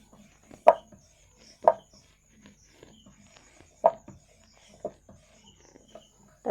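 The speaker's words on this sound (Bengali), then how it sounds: "আটা দিয়ে বেলে নেব ভালো করে।" A rolling pin works flour dough for egg paratha, giving soft, irregular wooden knocks and thumps spaced about a second apart, close and fairly quiet with no talking.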